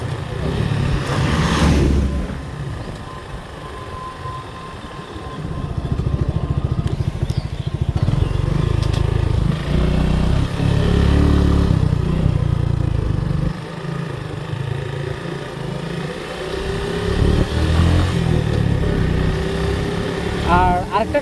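A 2020 Suzuki Gixxer carbureted motorcycle with a carburetor fault runs close by, its engine droning steadily with a few dips and surges, and occasional talk mixed in.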